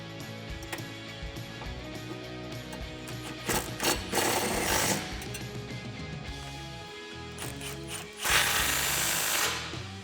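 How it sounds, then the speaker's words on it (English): A 13 mm exhaust bolt on a 2015-2019 Dodge Challenger being tightened back to the frame with a ratchet, giving close mechanical clicking and ratcheting in a couple of louder bursts over a low background hum, with no talk. "Use our 13 bolt to tighten this back down to the frame."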